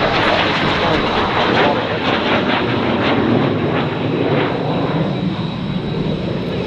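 A steady, loud roar of an A-37 Dragonfly jet aircraft's engines at an airshow, continuous and close, with people talking beneath the noise.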